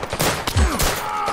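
Gunfire in the VR shooter Zero Caliber VR comes as a quick burst of several sharp shots, close and loud, over a short stretch of game sound.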